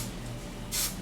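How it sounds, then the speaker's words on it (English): A short hiss of hairspray misted onto teased hair at the sides, one brief burst near the end over quiet room noise. "a little spray"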